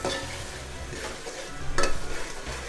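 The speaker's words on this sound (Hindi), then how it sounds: "अब चिकन के साथ इसको भूनना है दही डाल के" Chicken sizzles in spiced masala with yogurt while being stirred for a Rajasthani chicken pulao, a constant close fry with spoon scrapes and a louder swell partway through.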